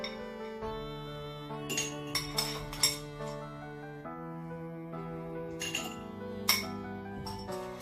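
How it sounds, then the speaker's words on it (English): Ice cubes clink against glass while lemonade is prepared, with several bright, irregular taps clustered near the start and again near the end over a steady musical background. "you need ice cubes."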